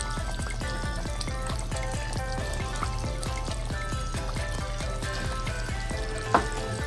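Slit green chillies go into a simmering pot, a steady low bubbling and sizzling under a regular ticking rhythm, with one small clink near the end and no talking.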